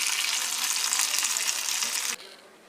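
Spicy fish fry stirred in a pan with a little coriander leaf, giving a steady loud sizzle and scraping for about two seconds before the frying abruptly drops to a faint hiss, with no one talking.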